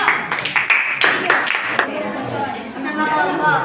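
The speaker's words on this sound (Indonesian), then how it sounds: "Oke, tepuk tangan untuk kelompok." A class of eighth-grade students claps for a student group after a regional folk singing lesson, with a few sharp claps at first and then looser clapping mixed with chatter and talk in the room.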